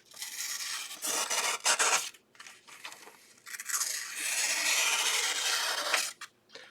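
A Leatherman ARC multitool blade slices through paper in several bursts of dry, rasping scrapes, close and fairly loud, separated by brief pauses.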